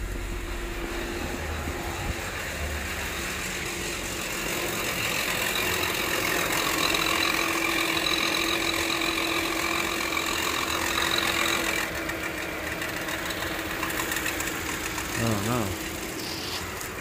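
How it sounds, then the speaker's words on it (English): A 2007 Lincoln MKX with the 3.5-litre engine idles steadily, a constant low drone with a faint rattle from something loose underneath, while a person talks over it. "Sounds like something's loose underneath the truck."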